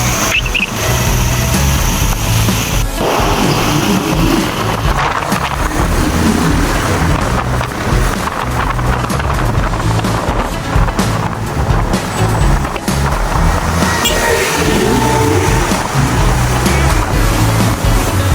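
A new motorcycle ridden outdoors, heard as a loud, unbroken roar of wind buffeting and engine rumble that fills the whole stretch with no pauses.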